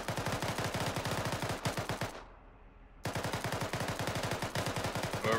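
A machine gun in the Arma 3 combat game fires long rapid bursts of close, loud shots, breaking off briefly for under a second before the steady stream of fire resumes.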